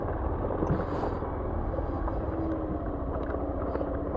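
Motorcycle engine droning steadily while riding over a rough, rocky road in Sariaya, Quezon, with continuous rumble and wind buffeting throughout, no talk.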